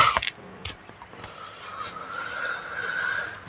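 A long, wavering creak of a door swinging open in the horror game Granny 2, starting after a few sharp clicks and rising slowly, moderately loud and heard alone.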